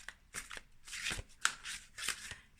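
A deck of cards is shuffled by hand in quick riffling bursts, several crisp rustling flurries with brief pauses between, close and fairly quiet.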